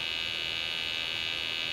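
A Sensit HXG-2D handheld gas leak detector sounds its startup alarm, a steady, loud, high-pitched electronic buzzing tone that holds unbroken throughout with no voices heard.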